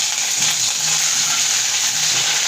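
Ginger and vegetables frying in a pan make a steady, dense sizzling hiss that stays even and fairly close for the whole moment.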